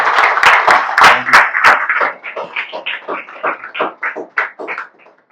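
Lively audience applause with sharp, scattered claps, strongest at first and thinning to a few separate claps toward the end, heard alone without talk.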